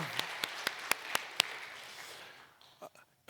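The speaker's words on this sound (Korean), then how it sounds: "영광의 박수 드리겠습니다" A church congregation claps in unison, a series of sharp, evenly spaced claps over a room murmur, then a few scattered louder sounds as speech resumes.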